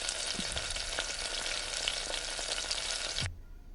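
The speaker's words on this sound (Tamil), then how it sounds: "இந்த ஆனியன்ஸ் கலர் மாறுற வரைக்கும் இதை அப்படியே நம்ம ஃப்ரை பண்ணிக்கலாம்." Finely chopped onions sizzle steadily in a hot pan for quail thokku, a dense continuous frying hiss with a few stir clatters, close and loud, cutting off abruptly near the end.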